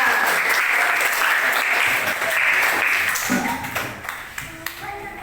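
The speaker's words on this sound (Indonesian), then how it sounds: "tepuk tangan buat Mas Fian" Classmates clap for a student in a school lesson on solar eclipses, a dense burst of applause with a few scattered taps that thins out toward the end, with some voices mixed in.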